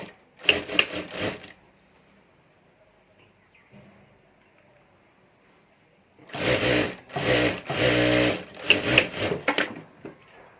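A sewing machine stitches a zipper pocket on a handmade purse in two loud, close bursts of rapid mechanical whirring, with a quiet pause between them.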